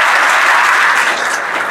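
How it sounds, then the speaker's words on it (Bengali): An audience applauds loudly and steadily at a defence academy gathering, dense close clapping that holds for the whole stretch and eases slightly near the end. "ভাইয়ের জন্য একটু জোরে হাততালি পাওয়া উচিত আমাদের"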